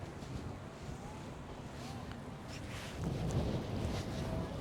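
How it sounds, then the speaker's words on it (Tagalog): Steady wind roars and buffets the microphone in a continuous low rush at an outdoor tulip festival, swelling briefly louder partway through. "Medyo maano lang, mahangin lang talaga."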